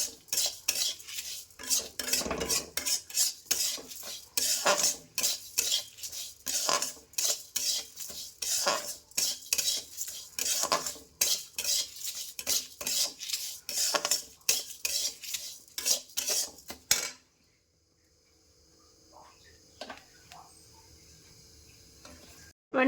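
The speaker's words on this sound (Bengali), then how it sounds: "চালটা দেখো একটু তেজপাতা দিয়ে ভাজছি।" A spoon stirs rice frying in ghee with bay leaf in a pan: quick, rhythmic metal scrapes and clinks repeat steadily and close up, then give way to near silence for the last few seconds.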